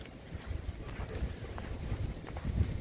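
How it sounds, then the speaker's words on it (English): Gusty wind in near-blizzard cold buffets the microphone as a steady low rumble that swells in repeated gusts, with no voices. "Flags a while ago were whipping with it, so it's still kind of gusty."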